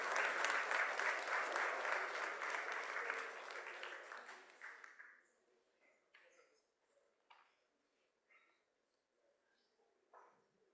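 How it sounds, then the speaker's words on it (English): A round of applause from the audience at a university lecture-series ceremony, a dense steady clapping for about five seconds that then thins out into scattered claps and quiet room noise. "A warm round of applause, please."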